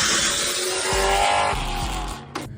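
A 2008 Pontiac G8 GT sedan with a 6-liter V8 drives close and loud with sustained tire squeal and engine roar that fades near the end, followed by a short thump.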